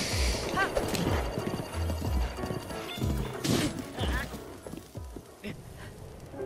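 Horse hooves gallop in a rhythmic clip-clop through Zelda: Breath of the Wild, running steadily at moderate loudness alongside game sounds and occasional thumps, with speech mixed in.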